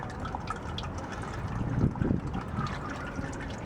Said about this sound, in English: Put your hand out because it's going to let some oil loose.